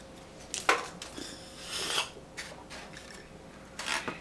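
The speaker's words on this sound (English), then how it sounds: "Stir it around." A spoon stirs a banana shake in a cup, giving scattered faint clinks and scraping rubs at an irregular pace, quiet and close with no talk over them.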